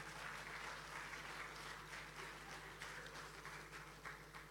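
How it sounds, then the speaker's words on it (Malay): An audience of men and women applauds at a Ramadan lecture program in Kuala Lumpur, a dense continuous patter of clapping heard somewhat distantly over a steady low hum. "Kita berikan tepukan tuan-tuan dan puan"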